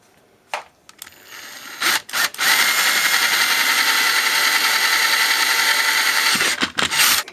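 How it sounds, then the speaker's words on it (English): A power drill spins up and runs steadily for several seconds, loud and close, with a few short clicks and bursts before and after. "Just go ahead and drill this."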